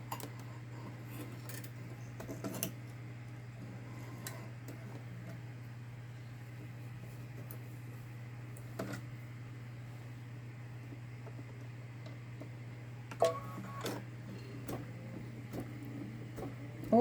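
A Babylock Solaris Vision embroidery machine stitches a summer garden gnome design in white thread, giving off a faint steady motor hum with light intermittent ticks and clicks, recorded quietly and without speech.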